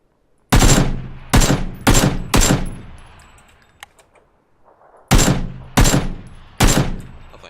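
Loud gunfire erupts in the shooting game PUBG, with four quick shots, a short lull broken by faint ticks, and then three more sharp bangs.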